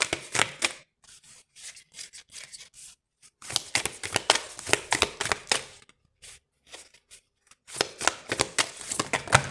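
Tarot cards shuffled by hand in repeated rustling, riffling bursts, close and fairly loud, with short quiet pauses between rounds and no talking.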